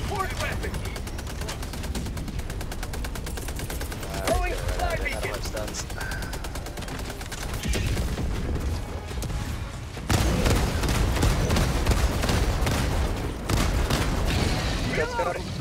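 Autocannon fire in the video game Helldivers 2 comes as a dense, rapid stream of loud shots and booming impacts that runs continuously and grows heavier toward the end, with people talking over it.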